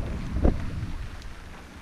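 Wind in about eight knots, sailing close-hauled off Corsica, presses on a sailboat's canvas cockpit canopy, giving one soft, muffled low thump followed by a brief rumbling flutter, close and alone.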